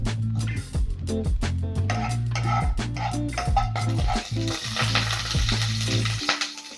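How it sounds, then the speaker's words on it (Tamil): Cumin seeds fry in a little oil in a pan, a hissing sizzle that thickens in the second half. Rhythmic background music plays over it throughout. "ஜீரகம் நல்லா பொரிஞ்சதும் வரமிளகா,"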